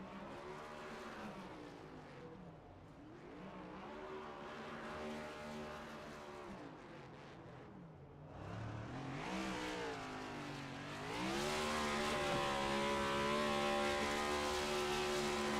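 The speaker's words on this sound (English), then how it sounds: "He'll do burnouts down on the front stretch." Race car revving hard through burnouts on the front stretch of a roval oval after a Moonshiners Racing League O.B. Builders Cup win, engine roaring loud and sustained with rising pitch, tire squeal and skidding mixed in, no talk.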